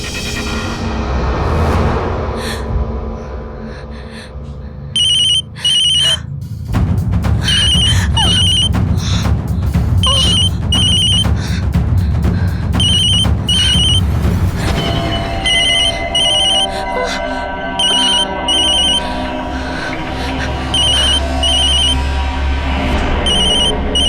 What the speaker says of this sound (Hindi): मैं भैया को फोन करके देखती हूँ।